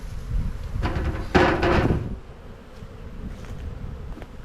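A large spring honeybee colony in a white hive buzzes as a dense, continuous drone, swelling briefly louder near the start as bees move close, then settling to a softer background hum.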